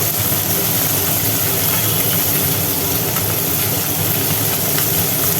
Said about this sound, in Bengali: ওদিকে মোরলা মাছ ভাজা চলছে